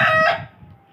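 White desi rooster crowing close by, a loud bright cry that starts at once and fades within a second into quieter low clucking.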